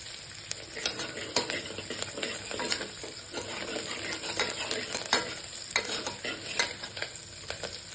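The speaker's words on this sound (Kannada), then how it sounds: "ಸ್ವಲ್ಪ ಈರುಳ್ಳಿ ಕಲರು ಚೇಂಜ್ ಆಗಬೇಕು, ಅಲ್ಲಿವರೆಗೂ ಸ್ವಲ್ಪ ಫ್ರೈ ಮಾಡ್ಕೊಳ್ಳೋಣ" Onions sizzling steadily as they fry in a pan for idli sambar, with repeated clinks and scrapes of a spoon stirring them throughout, alone without talk.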